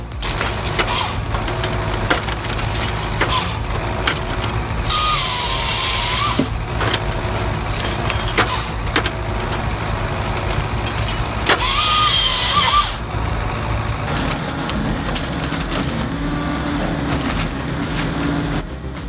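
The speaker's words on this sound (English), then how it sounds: "This Primax shredder offers a solution, ripping them into smaller bits." A Primax industrial shredder rips leftover tree stumps from land clearing into smaller bits with a steady, loud mechanical roar. Two harsher, high grinding surges cut in midway, with splintering cracks over the constant drone.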